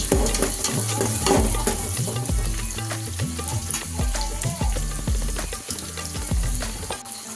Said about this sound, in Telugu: ఇవి కొంచెం ఫ్రై అవ్వాలి.